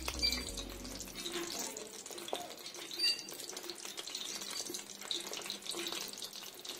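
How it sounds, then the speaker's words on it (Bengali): Small pieces of a rice-based snack fry in hot oil with a faint, steady sizzle and scattered light crackles, after a soft low thump at the start. "এখন ভেজে নিব।"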